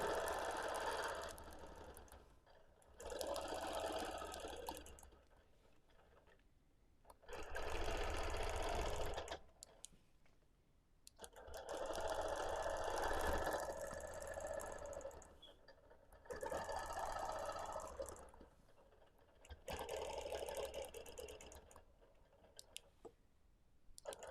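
A long arm quilting machine stitches a scrappy quilt in bursts of steady rapid needle chatter, each run lasting several seconds and separated by short quiet pauses, close and fairly loud.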